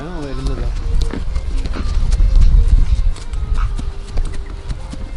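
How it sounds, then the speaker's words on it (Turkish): Hooves clop in an uneven rhythm on hard ground, fairly close, with people talking over them throughout. "Çok güzel hayvanlar atlar."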